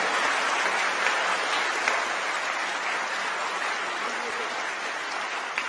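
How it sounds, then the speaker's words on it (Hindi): Large devotional gathering in Haridwar clapping loudly, a dense, sustained wash of many hands at even volume for nearly six seconds, heard alone without talk. "जरा एक बार जोरदार ताली बजाइए और मुस्कुराइए।"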